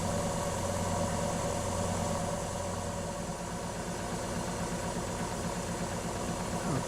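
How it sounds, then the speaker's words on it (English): An electric motor with Hall effect sensors runs steadily, giving a continuous low hum with a faint rhythmic buzz and whine that stays even throughout, fairly quiet and close, with no talking. "Let's slow the motor down and stop it."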